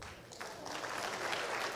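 Audience applause at a master's degree graduation ceremony, a soft, fairly distant patter of many hands clapping that swells slightly and continues steadily.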